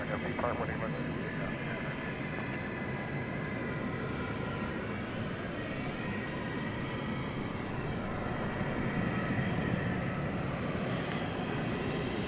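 An American Airlines jet on its takeoff roll from runway 18 left at DFW gives a broad, steady engine roar that stays fairly even throughout, heard from a distance, with a radio voice talking over it.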